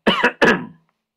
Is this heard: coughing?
yes